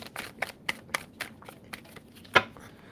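A series of quick papery tarot card riffles and taps, about a dozen soft flicks in uneven rhythm, close and fairly quiet.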